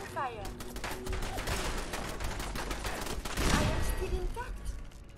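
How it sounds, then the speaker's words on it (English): Fallout 4 gunfight: rapid, sustained automatic fire crackles throughout, with a louder burst of shots midway, while people talk over it. "what was shooting?"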